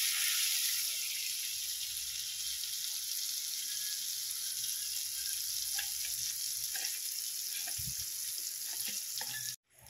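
Butter sizzling in a small amount of hot oil in a pan, a loud, steady broadband frying hiss that fills the scene and cuts off abruptly at the end.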